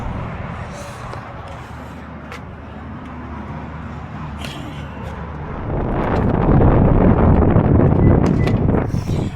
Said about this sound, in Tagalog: Sobrang lakas pala ng hangin.